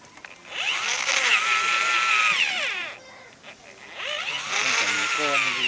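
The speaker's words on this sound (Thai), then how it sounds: "เจาะตรงนี้ใต้เนี่ยแล้วก็ใช้สว่าน" A power drill bores into a bamboo stem just below a node, its high whine rising and holding steady, then dropping away briefly before it resumes loudly.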